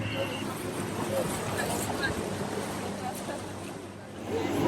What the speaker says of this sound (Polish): Tutaj płyniemy przez taką kataraktę.